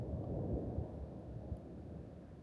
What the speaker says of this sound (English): I don't know if you heard that, but that was thunder